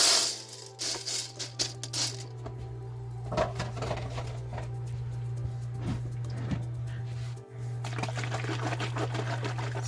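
Dry pasta shells pour into an Instant Pot, a scattered rattle of light clicks and taps over a steady low electrical hum, close and fairly quiet.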